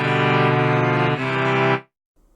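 A sustained chord cadence moving from the one chord to the five chord and back to the one, held full and loud before cutting off abruptly into silence.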